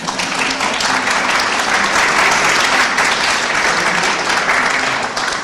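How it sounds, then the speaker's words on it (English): Dense, sustained applause from an audience at a public forum on mental health and the criminal courts, many hands clapping evenly and loudly for about five seconds with no talk over it. "how about a little clapping?"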